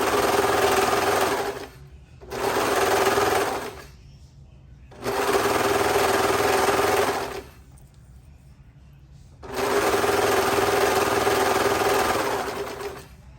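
A sewing machine runs through three layers of fabric in four loud, steady bursts of rapid stitching, each lasting a couple of seconds, with brief quiet gaps between them.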